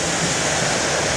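Flowing water at a scenic outdoor spot, a continuous, even rushing murmur without a break, fairly loud and close, with no voices.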